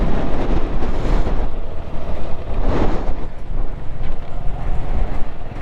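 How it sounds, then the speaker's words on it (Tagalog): Strong wind roars steadily against the microphone in Malico, Pangasinan, a loud broadband rush with gusts swelling and easing throughout, no voices. "lakas ng hangin"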